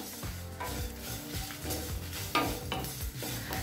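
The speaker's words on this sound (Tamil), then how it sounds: "கருவேப்பிலை ஈரப்பதம் போக நல்லா வறுத்துக்கணுங்க." Curry leaves dry-roasting in a pan for curry leaf powder, a steady crackling sizzle with stirring scrapes throughout, close and moderately loud.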